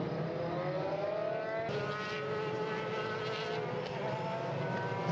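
Formula-style Dallara VW race cars accelerate hard after a safety car restart at Spielberg, their engines a loud, sustained whine with rising pitch and another car joining partway through.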